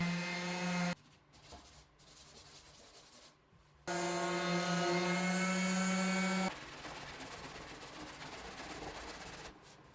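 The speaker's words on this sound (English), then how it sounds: "I did some final sanding touches." Close-up sanding on wood, a steady rasping hum that shifts in tone between passes, fairly quiet with no voices.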